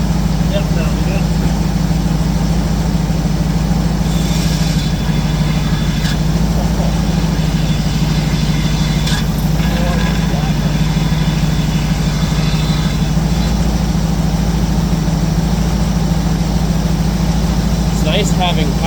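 A Buick Skylark engine runs steadily after a power steering repair, a loud continuous mid-low drone that holds throughout.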